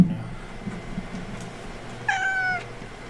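A pet cat gives a single clear, drawn-out meow lasting about half a second, close by and fairly loud, after a stretch of quiet room noise.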